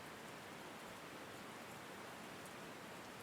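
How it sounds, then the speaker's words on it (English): Steady rushing of a waterfall in the video game Call of the Sea, a soft, even wash of falling water with no breaks, heard alone and fairly faint. "Waterfall."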